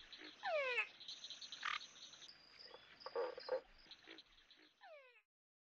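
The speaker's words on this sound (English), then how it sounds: "Frogs tend to call at night." Frogs call in a chorus of rising, trilling croaks and pulsed notes, overlapping and fairly clear against a quiet background, fading into silence at the end.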